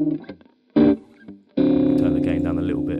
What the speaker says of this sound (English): That amp emulation, it gives it that real guitar feel.